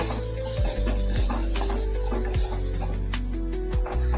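Vegetarian stuffing for potol dolma, seasoned with salt and sugar, is stir-fried in a wok, giving a steady close sizzle with regular scraping stir strokes about every second.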